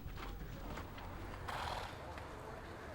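Wild Mustang horses from the Challis herd held in corrals at a fairground auction in Blackfoot, Idaho, shifting and stamping with hoof thuds and a possible whinny amid steady crowd murmur and background noise.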